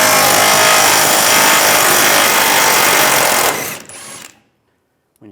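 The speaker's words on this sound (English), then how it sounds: "Take a 21mm socket, take this bolt out." A 21mm socket on a power tool spins out a bumper bolt on a 2007-2013 Chevy Silverado 1500, a loud, continuous rattling whir lasting several seconds that then stops abruptly and falls silent.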